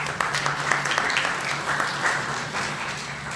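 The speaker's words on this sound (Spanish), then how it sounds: "Fuertes aplausos para Úrsula, por favor." Audience applause at a Spanish-language round-table event, a sustained wash of many hands clapping at moderate volume, with a faint voice underneath.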